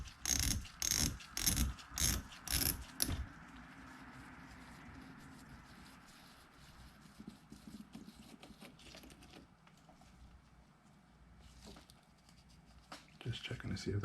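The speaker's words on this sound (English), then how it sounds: "star drag does not just pop off, you have to twist it off" Star drag twisted off an Abu Garcia Zenon LTX BFS baitcaster reel, a fast run of loud ratcheting clicks at first, then quieter handling and fiddling noises with talk.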